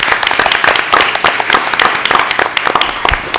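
Applause from those attending a public school board of education meeting right after a vote, a dense steady patter of many hands clapping at close range for a few seconds.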